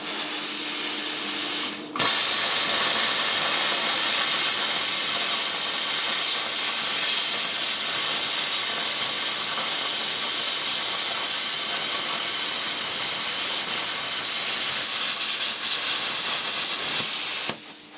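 An R-Tech P51D plasma cutter slices freehand through steel, giving a loud, steady rushing hiss that starts abruptly and holds for about fifteen seconds before cutting off sharply. No voices are heard.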